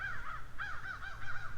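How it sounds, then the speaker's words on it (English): Crows caw outdoors near a small rural community, several harsh repeated calls in quick succession, fairly close and clear over a low background hum. "Good morning to you too, crows."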